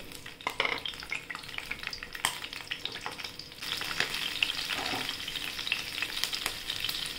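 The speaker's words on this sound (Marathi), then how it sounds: "आता लसूण आहे ना ते पण तेलात तळून घ्यायचं" Garlic fries in hot oil for a bitter gourd chutney, a steady close crackling sizzle with occasional sharp pops and stirring clicks, growing a little louder partway through, no voices.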